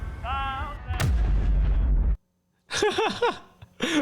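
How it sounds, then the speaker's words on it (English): Explosions and loud bursts of gunfire from a played video, with a sharp blast about a second in, then silence and further whistling, booming impacts. "the random explosion for just no reason whatsoever"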